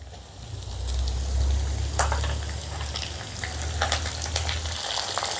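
Ginger pieces and green chillies frying in oil in a pan for cashew upma, a steady close sizzle under a low stove hum, with a few sharper crackles and pops scattered through.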